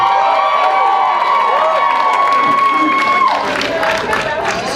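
A crowd at a stand-up comedy show in Chanute, Kansas, cheers, whoops and claps loudly together, with sustained shouts rising above dense applause throughout.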